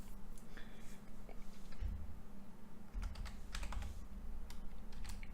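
Quick, steady clicking of a computer keyboard sounds up close while code is typed, with a low background hum underneath.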